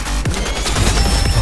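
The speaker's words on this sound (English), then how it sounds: "Sniped him through a window." A sniper rifle in the video game Fortnite fires a loud, close shot followed by a burst of rapid crackling gunfire, all within about a second and a half.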